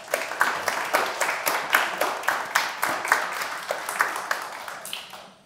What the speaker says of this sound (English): Let's give an initial round of applause to